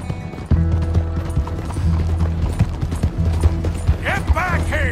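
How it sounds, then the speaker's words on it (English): Horse hooves clip-clopping at a steady gallop in Red Dead Redemption 2, loud and close with mechanical rattling and a brief whinny-like squeal near the end, game music underneath. "Looks like we're turning this horse back."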